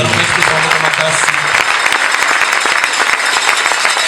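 A church congregation breaks into sustained, dense applause that fills the space at full volume, with a voice briefly audible at the start and the clapping continuing evenly throughout.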